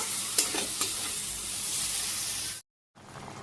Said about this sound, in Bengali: এখানে কষাচ্ছি পনিরের সব কিছু।